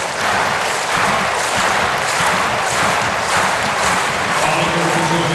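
Dense, roaring stadium crowd clapping and cheering at the Bislett athletics meeting in Oslo during a Diamond League event, a loud continuous wash of rhythmic applause with no voices standing out.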